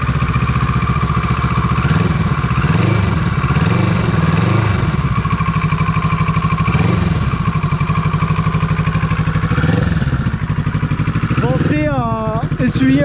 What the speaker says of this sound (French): ensuite, on démarre la moto. Voilà, on la démarre.